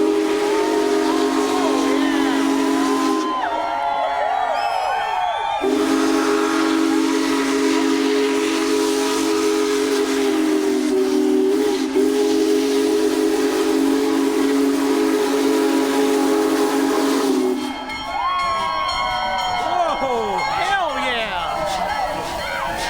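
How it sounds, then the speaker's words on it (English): Union Pacific Big Boy 4014 steam locomotive passing through Struthers, Ohio, sounds a long, loud, steady steam whistle, cut off briefly and then resumed for over ten seconds, with crowd noise and voices around. "Come on, blow that whistle."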